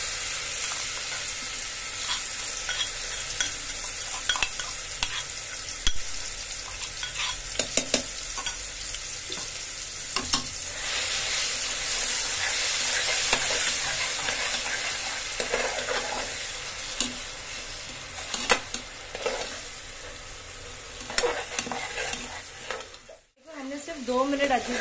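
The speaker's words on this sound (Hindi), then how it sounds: "अब ये तेल में हम ये सारे जो कूटे हुए मसाले हैं वो हम" Crushed spices with garlic and tomato frying in hot oil, a steady sizzle and hiss with stirring scrapes throughout, a voice talking over it now and then.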